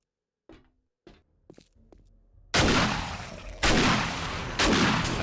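Tactical assault rifle gunfire in the game 7 Days to Die Alpha 19: a few faint thuds and clicks, then three loud, sustained bursts of rapid automatic fire close up, each ringing out before the next.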